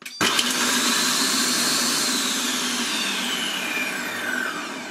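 A Monsieur Cuisine food processor runs on turbo to chop garlic cloves in its lidded bowl, starting with a click and then roaring in a loud, steady whir for several seconds.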